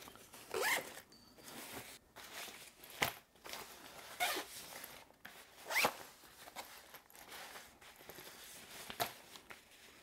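A Peak Design travel-line packing cube being zipped closed all the way around its compression zipper, a series of close, bright zipping pulls, some short and some drawn out, with no one speaking.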